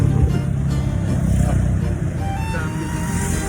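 Road traffic in Batangas, Philippines: a continuous rumble of car and motorcycle engines passing close by, steady and fairly loud, with voices talking underneath.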